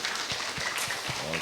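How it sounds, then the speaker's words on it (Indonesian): Applause from an audience at a community health centre re-accreditation event in Indonesia, a steady wash of clapping throughout with some low rumble underneath. "Baik, tepuk tangan dulu."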